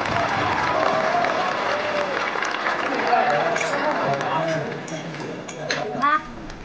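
Guests applauding at a wedding ceremony, sustained clapping from a crowd filling the room, with a voice talking over it and the applause thinning toward the end.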